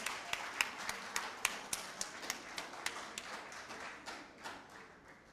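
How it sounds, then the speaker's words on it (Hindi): An audience at a joint replacement patients' reunion program claps to welcome a harmonica performer: a sparse, fairly faint run of individual hand claps in a loose, steady rhythm that thins out toward the end. "एक बार जोरदार तालियों से we welcome him"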